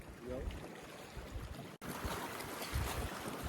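Gusty sea wind rushes across a small fishing boat, a continuous broad roar with a brief dropout midway, waves and water noise mixed in and faint talking in the background.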